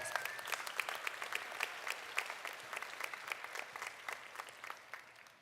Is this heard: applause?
yes